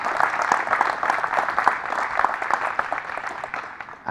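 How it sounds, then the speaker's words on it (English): Audience applause at a live company call event, a dense steady wash of many hands clapping throughout, fairly close and sustained without a break, with faint cheering mixed in. "Give Chadwick a round of applause"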